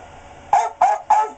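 The hunting dog from the NES game Duck Hunt barks three times in quick succession, bright and electronic, loud and close with no other sound.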